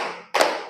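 A single sharp hand clap rings out close by in a classroom after a fading earlier sound, with a short decaying tail.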